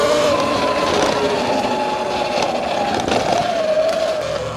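An E Ride Pro SS 2.0 12,000 watt electric bike rides off-road, its motor giving a loud continuous whine that rises and falls slightly, with wind and rustle beneath and no talk.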